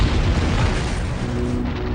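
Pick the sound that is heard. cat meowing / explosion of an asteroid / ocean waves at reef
explosion of an asteroid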